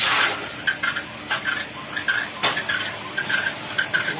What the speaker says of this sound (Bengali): চার পাঁচ মিনিট করে এক একটা কড়াইতে চাল নাড়া হয় এই যে তিনটি কড়াইতে চাল নাড়া হচ্ছে